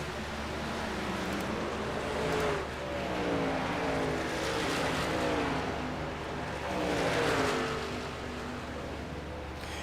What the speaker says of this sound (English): you see quite a few trucks come zipping on by.